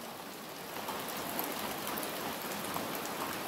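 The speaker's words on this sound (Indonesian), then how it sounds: "Masih diiringi dengan tetesan-tetesan air hujan pagi." Steady morning rain falls and drips across surfaces in a rural transmigration village, a dense, even hiss of drops close by with no voices.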